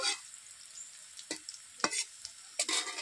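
Ginger paste goes into browned onions in a hot pan, bringing a soft steady sizzle broken by a few sharp scraping stirs and louder spatters near the end.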